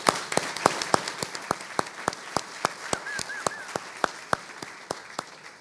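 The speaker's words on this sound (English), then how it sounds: "I want to give you a round of applause." An audience claps steadily at a panel session on federal records management, giving sharp regular claps that fade a little toward the end, with no voices over them.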